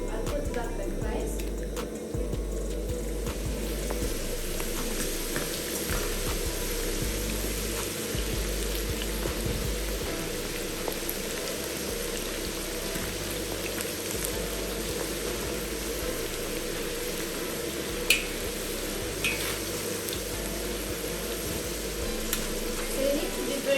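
Homemade fries sizzle and crackle steadily in hot oil while being stirred, a close, continuous frying hiss with occasional scraping, and a person talking over it.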